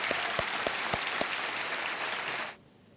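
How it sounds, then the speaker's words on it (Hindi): Studio audience at a TV quiz show applauds in a dense, even roar of clapping with a few sharper claps standing out, then stops abruptly near the end. "तालियों के साथ इनका हम स्वागत करते हैं।"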